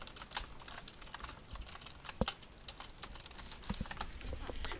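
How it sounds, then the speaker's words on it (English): Soft, steady keyboard typing while an email is written, a fast irregular patter of key clicks heard alone at low volume with no talking. "So I'm just going to write an email to myself."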